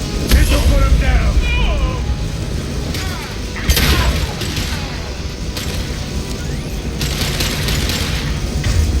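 A fuel tank explodes under gunfire in the video game Mass Effect: scattered shots, then a loud booming blast roughly midway through, all within a busy combat soundscape with voices talking throughout.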